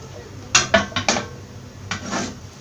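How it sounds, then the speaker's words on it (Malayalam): A metal grilling pan is set down on a stove for grilling seabream, giving four or five close clanks and scrapes in quick succession, then a softer knock and some brief shuffling. "ഇനി ഇത് ഗ്രില്ല് ചെയ്യാനായിട്ട് ഒരു ഗ്രില്ലിംഗ് പാൻ അടുപ്പത്ത് വെക്കാം."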